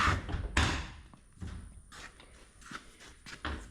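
A 1934 Ford Coupe door opens in a garage, giving a few close clunks and latch knocks spread across the clip, with scattered handling noises in between.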